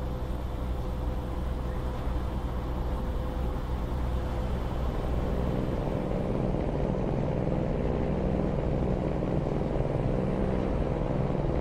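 1999 Peterbilt 379EXHD truck engine in Euro Truck Simulator 2, a steady, rumbling drone with a propeller-like throb, holding constant and fairly loud throughout with no talking.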